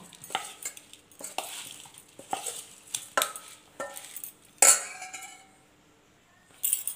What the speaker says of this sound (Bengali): এবারে সব কিছু খুব ভালো করে মিশিয়ে নেব